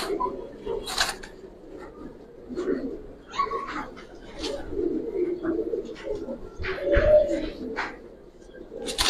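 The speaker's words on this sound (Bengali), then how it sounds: "সম্পূর্ণ পুরান জাতের যেটা কবুতর।" Old-breed fancy pigeons coo repeatedly at close range, their low throaty calls rising and falling. Faint chirps and short clatters come through in a quiet indoor loft.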